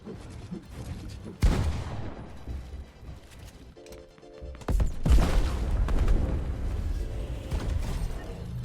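Fortnite gameplay with rifle shots and a rocket explosion: loud bursts of firing and booms come in two heavy clusters, separated by a quieter stretch with a brief mechanical tone.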